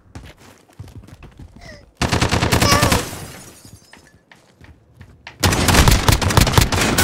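Twelve-gauge shotgun fire in Call of Duty Modern Warfare gun game, loud sharp bursts of rapid, repeated blasts in two heavy volleys, with quieter scattered shots before them.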